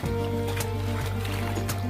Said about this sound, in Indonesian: Nah, kita siram-siramkan semua tembok, semua pori-pori ya.